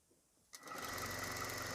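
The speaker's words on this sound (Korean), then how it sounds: "이런 식으로 끝까지 허리 끝까지 이렇게 박음질 하시고요." A sewing machine starts after a brief quiet moment and runs in a fast, continuous close-up whir, stitching fabric up to the waistband of summer pants.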